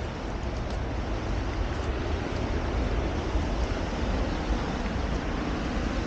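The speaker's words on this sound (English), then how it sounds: "Whoa, see the waterfall" A waterfall in Uramakihata Canyon, Japan, gives off a steady, loud, unbroken roar of rushing water that fills the whole clip, with no voices.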